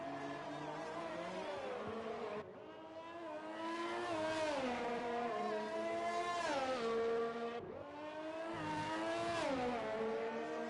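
Formula 1 car engine screaming through a qualifying flying lap in the F1 2020 video game at the Canada circuit, loud high-revving harmonics rising steadily with sharp gearshift breaks, two clear upshift cuts, no talking.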